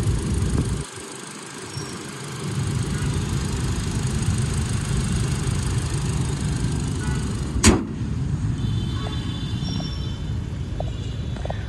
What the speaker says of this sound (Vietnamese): Như cái động cơ mới à quý vị ạ.